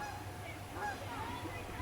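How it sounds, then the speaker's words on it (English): A few faint goose honks from a distance over a low steady background hum. "Oh, more geese."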